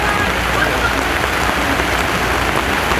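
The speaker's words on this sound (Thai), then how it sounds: "เมื่อกี้นี่ฝนตกมาอีกแล้ว" Steady rain pours down in a continuous dense hiss of drops on surfaces, close and unbroken, with no voices.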